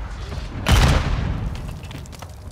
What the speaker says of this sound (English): Requesting mortar strike.